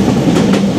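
The Sagardari Express passenger train runs between Khulna and Rajshahi after leaving Kotchandpur station, a loud, close rumble with quick rhythmic clatter of wheels on the rails.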